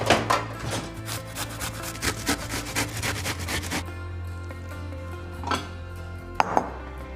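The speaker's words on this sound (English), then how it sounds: "So with the onions, we're gonna grate this on a box grater." An onion is grated on a box grater for butter chicken sauce, giving rhythmic rasping strokes, close and fairly loud for several seconds before slowing to a few scattered scrapes.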